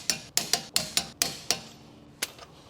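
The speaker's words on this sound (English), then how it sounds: "Tighten the lug nuts to 130 Newton meters or 96 foot-pounds using a" A 17mm socket wrench tightens lug nuts on a Honda Civic, producing a string of sharp metallic clicks in a quick irregular rhythm, close and clear, then a single final click after a pause.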